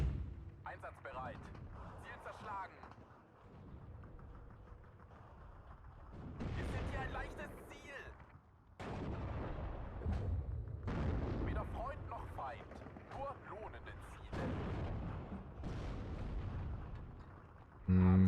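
Artillery and 85mm gun fire in the wartime strategy game Steel Division 2, heard as repeated booming bursts spaced through the clip, with someone talking between and over the blasts.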